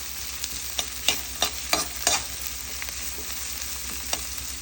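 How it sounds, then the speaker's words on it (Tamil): About 200 grams of onions sauté in a pan with a soft, steady sizzle, broken by several sharp scraping clicks as a spoon stirs them. No talking. "இப்போ வெங்காயத்தை வந்து நல்லா வதக்கிக்கோங்க."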